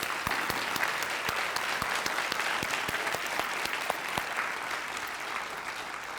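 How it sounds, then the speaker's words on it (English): Steady, dense audience applause fills a Teacher of the Year ceremony hall, sharp individual claps standing out through a continuous even roar of clapping. "join me in giving them one more round of much-deserved applause"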